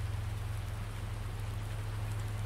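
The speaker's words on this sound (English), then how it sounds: "And we got our cows out there taking a bath in this awful rain." Rain in the Farming Simulator 19 game on the Medicine Creek map falls as a steady, dense patter of drops, even throughout, with a low continuous hum beneath it.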